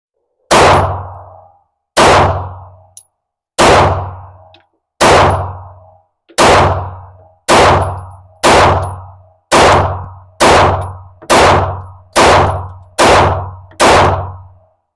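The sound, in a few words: loaded Taurus GX4 pistol dropped hard in a drop test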